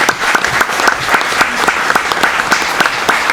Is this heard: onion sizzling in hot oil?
no